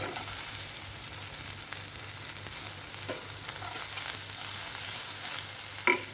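Onions go into hot garlic in a pan over medium-to-high flame and sizzle steadily and loudly, with occasional stirring clatter and a low background hum throughout.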